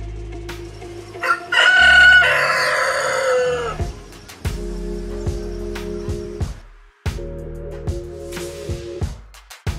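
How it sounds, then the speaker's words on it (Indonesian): A chicken clucks and a rooster crows loudly nearby, the crow rising and fading before a run of sharp repeated clucks and squawks, with no other sound behind them. "Ini adalah ayam."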